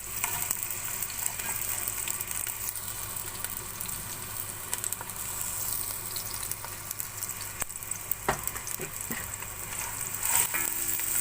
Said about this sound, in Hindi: अब प्याज को मैं हल्की आंच पे ब्राउन कर लूंगी।